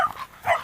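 Bulldog barking in two short, fairly loud barks close by, with a brief pause between them.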